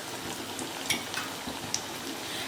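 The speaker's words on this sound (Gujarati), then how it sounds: "હું તમને ટિક્કી તળીને બતાવું" Aloo tikki frying in oil over a low-to-medium gas flame, a soft steady sizzle with a few faint pops and crackles, heard alone without talk.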